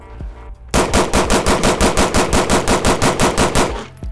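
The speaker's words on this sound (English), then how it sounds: "you think I get a whole mag in the A zone, Paul?" A Sig 320 pistol fires a full magazine rapidly, about sixteen loud, evenly spaced shots in a fast steady string at close range, with no talk.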